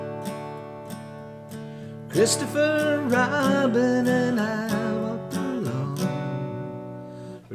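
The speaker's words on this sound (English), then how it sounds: "Really straight strumming like that, and it's a nice strumming pattern." Steel-string acoustic guitar strummed straight up and down in D, a few sparse strums before dense even strumming with a man singing along, close and clear.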